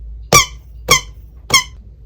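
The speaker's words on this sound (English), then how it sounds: "It also has this switch which you can switch on to make the squeaky sound." A Blackpink lightstick squeaks three times in even succession, each squeak a sharp, loud toy-like chirp with quiet gaps between.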